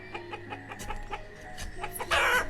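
Chickens in the village-building game Banished cluck repeatedly in short, moderate bursts, with a brief louder squawk near the end.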